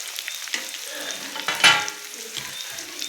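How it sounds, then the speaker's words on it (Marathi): Chopped green chillies and garlic roasting in a hot pan, a soft continuous sizzle with light stirring scrapes and one brief sharper crackle in the middle. "तेही मिरची चांगली भाजून घेऊया।"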